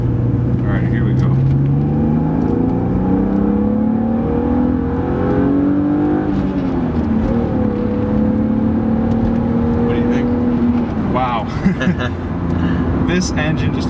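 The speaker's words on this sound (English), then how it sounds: "just a little second gear pull right here, just get into the out of the corner" A 1999 BMW M3 E36 engine pulls hard in second gear out of a corner, its loud interior drone climbing steadily in pitch with a brief shift-like dip midway while someone talks over it.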